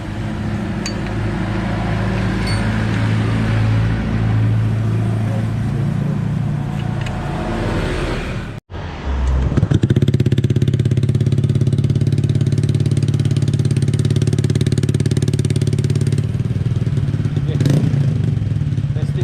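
A Honda Click 125 scooter engine runs steadily for an exhaust pipe test, a close, loud drone that cuts out for a moment midway before picking up again, with faint metallic clinks around it.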